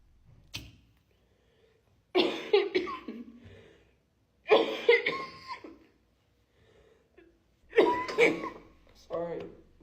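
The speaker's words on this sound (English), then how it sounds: "And now I have a dry cough." A few dry coughs from a person with allergies come in short, harsh bursts, close and fairly loud, separated by quiet gaps and mixed with some voiced sounds.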